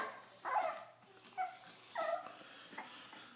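A Lhasa Apso puppy whimpers in short, high, plaintive whines, three or four cries spaced apart, fairly quiet and close, with no talking.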